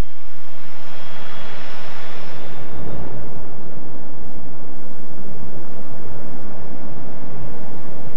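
A weather research plane drones steadily in flight, its engines heard from the cabin as a constant loud broadband roar with no talk.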